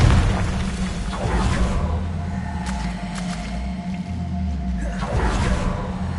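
Confringo fire spell blasts in Hogwarts Legacy on PS5, heard as dense rumbling booms and whooshing bursts layered under continuous game sound, loud and close with swelling impacts.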